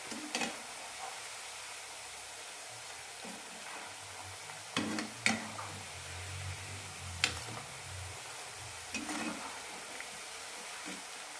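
Rice-flour ribbon pakoda fries in hot oil over a medium flame, a faint steady sizzle broken by a few soft clinks and stirring sounds.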